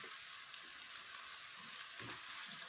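Fish pieces fry in hot oil in a large pan for fish curry, giving a steady, fairly quiet hiss and crackle with a few sharper pops.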